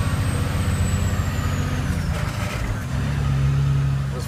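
A work truck drives past the outbound scales and shifts up into fourth gear, its engine a loud, steady low drone that dips in pitch mid-clip and then settles on the new gear.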